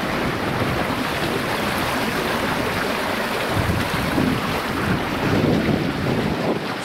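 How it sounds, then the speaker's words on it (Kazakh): Water rushes through an opened canal sluice gate near a reservoir in Zhambyl region, Kazakhstan, making a steady, loud broadband roar with gusty wind buffeting the microphone and no talk. "Сулар ағып жатыр."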